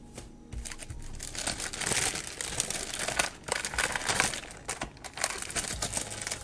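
Paper crinkles and rustles close by in irregular bursts as it is unwrapped and handled, a soft, steady crackling with brief pauses and no talk.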